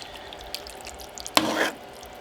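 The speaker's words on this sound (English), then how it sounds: "One final stir." Homemade venison chili stirred in a pot, a soft low bubbling simmer, then one short thick scraping swirl of a spoon near the end.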